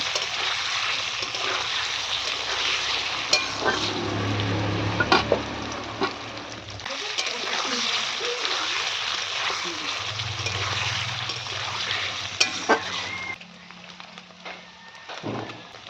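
Amul paneer cubes fry in oil in a pan, a constant close sizzle broken by scraping stirs and clatters, with a voice talking at times over the cooking.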